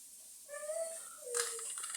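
A cat gives two short, soft meows close by, the second rising slightly, over quiet background.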